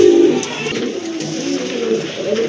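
Pigeons coo steadily and close by throughout, with a low, continuous murmur and no talk. Several birds overlap, and one of them is a huge black and white runt pigeon.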